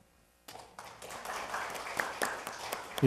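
Applause from an audience at a Korean National Assembly policy debate breaks out abruptly after a brief quiet start, a steady crackle of many hands clapping that builds toward the end.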